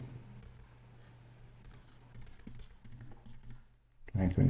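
Computer keyboard typing during data entry in report software, a run of soft irregular keystrokes under steady background hum, ending in a louder burst of clatter.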